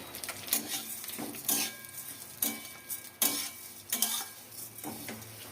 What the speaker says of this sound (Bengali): প্রথমে ঘি দিয়ে আমি ভেজে নেব।